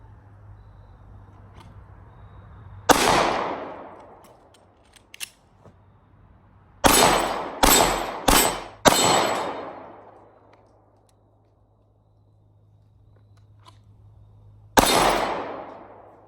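Handgun shots from a SIG 365XL or S&W 43X pistol: a single sharp report, then a quick burst of four close, loud shots, a long pause for the reload, and one more shot, each ringing out with a decaying tail.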